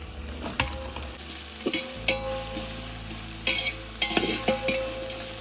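Ginger garlic paste, tomato pieces and red and yellow capsicum fry in a pan for a veg biryani, with a steady sizzle under sharp, irregular spoon scrapes and clinks, close and clear, no voices.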